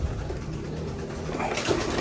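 Racing pigeons, including blue bar and blue check birds, coo softly in a loft, their low murmuring calls rising slightly near the end against steady background noise.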